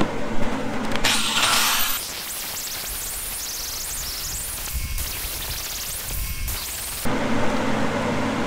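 An angle grinder removes metal from a weld on an aluminum boat, giving harsh hissing bursts over a constant background whir. The loudest bursts come at the start, in the middle and at the end.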